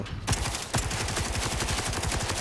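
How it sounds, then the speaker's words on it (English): An automated turret in the video game Borderlands 4 fires a dense, rapid stream of loud gunshots. The shots run continuously and close throughout the short stretch, with no talk. "Why is this turret shooting at me?"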